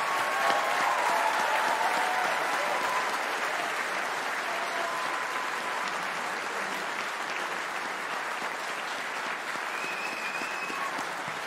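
A large convocation audience claps steadily for engineering graduates, a dense, sustained wash of applause that holds at full strength for the whole stretch and tapers only slightly near the end.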